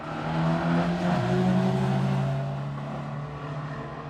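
A Ford race car on the drag strip at Santa Pod Raceway gives a loud, sustained engine note that shifts pitch partway through, then gradually fades as it pulls away.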